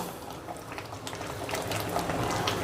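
A Bengali rui mughlai of rui fish and moong dal simmers in the pan while being gently stirred, a close, continuous bubbling hiss with soft wet pops.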